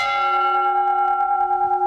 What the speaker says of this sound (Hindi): तो ये जो घड़ियाल है, ये घंटा है,